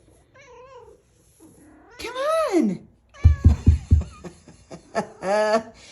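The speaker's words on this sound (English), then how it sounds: "Listen, cat's purring." A small pet cat meows several times, each call a rising-and-falling tone, with a quick run of soft thumps in between; a close voice coaxes briefly under the sounds.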